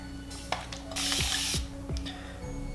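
Close spray bottle spritzes: a long hiss of mist in the middle, with shorter bursts and trigger clicks around it.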